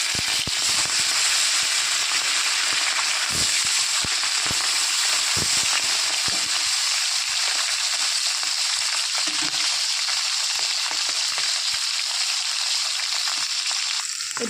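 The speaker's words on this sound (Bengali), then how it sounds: "এবার এক এক করে মাছগুলো ভেজে নেব।" Parshe fish frying in hot oil, a dense steady sizzle with scattered sharp pops and crackles, close and continuous with no talking.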